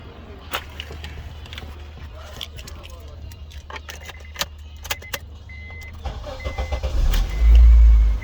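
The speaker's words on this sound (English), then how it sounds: "let me go ahead and start up the car, and let's see what happened about the idle" A car with a check engine light and high fuel use is started after some key jangling and clicks, the engine turning over and settling into a low, steady idle rumble near the end.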